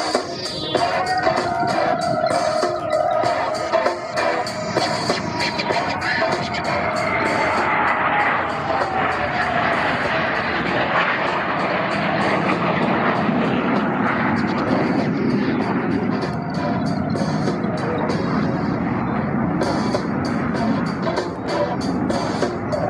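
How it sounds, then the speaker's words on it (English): US Navy Blue Angels jets in carrier landing configuration make a loud, sustained roar at a 2023 Columbus airshow, the engine noise swelling and shifting as the aircraft pass overhead; a crowd murmurs underneath. "both aircraft are in the carrier landing configuration as they approach for maneuver"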